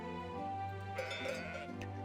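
Sheep bleating from a farm in the trading game Let Them Trade, one or two soft calls rising over a steady, sustained music bed, faint and brief.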